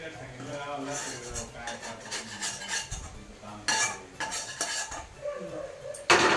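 A spoon scrapes and clinks against a metal pot while khoa is stirred into carrot halwa with jaggery, steady scraping strokes with a few sharper knocks near the end, close by, and a voice talking faintly in the background.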